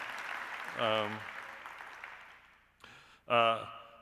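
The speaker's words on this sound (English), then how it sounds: "But we can clap. We can clap for him." Faint applause from a faculty convocation audience at CSUSB fills the background, a soft patter of clapping that gradually fades while a nearby voice speaks over it in short bursts.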